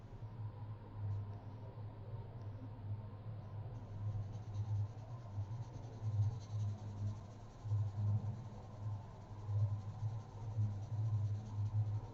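Graphite pencil shading on paper during a cup drawing practice, soft continuous scratchy strokes in a steady back-and-forth rhythm, close but quiet, with no talking.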